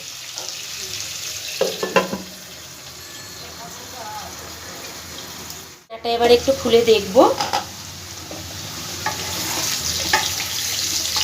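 Potatoes with a little turmeric fry in a pan on a medium flame: a soft, steady sizzle runs throughout, broken midway by a lid being lifted and a few clattering stirs, while someone talks over it.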